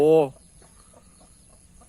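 Chickens in a raised bamboo coop give one short, loud cluck right at the start, followed by faint scattered clucks and rustling nearby.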